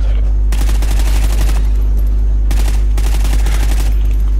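Machine gun bursts in Call of Duty Ghosts chaos mode, two loud sustained volleys of rapid fire separated by a short pause, over a constant low hum.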